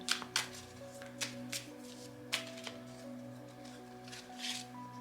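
Oracle cards shuffled and handled close by, a quiet series of soft papery riffles and slaps at irregular intervals over faint steady background music.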